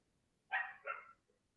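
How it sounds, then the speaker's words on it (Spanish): A single dog barks twice in quick succession, a short double yip heard at moderate distance from inside a home, with otherwise near-quiet surroundings. "Escucho un perro por lo menos."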